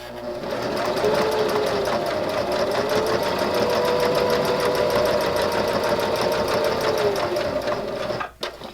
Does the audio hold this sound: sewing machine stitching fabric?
yes